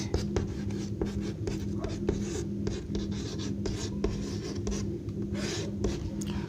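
A pen or chalk scratches across a board as maths is written out during a Hindi-language class 12 lesson on determinants, giving steady close rhythmic strokes over a low background hum.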